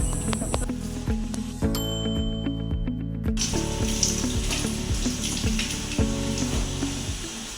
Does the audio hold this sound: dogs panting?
no